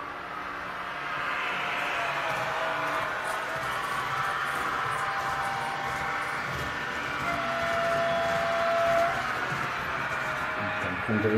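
A Märklin H0 scale model train with overhead catenary runs steadily around a large layout, producing a continuous rolling rumble with a faint high tone partway through, while a voice speaks quietly over it.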